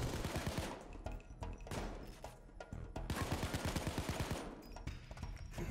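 Rapid bursts of automatic gunfire in the heist video game PayDay 2, loud and dense volleys of shots running almost continuously with brief gaps between bursts.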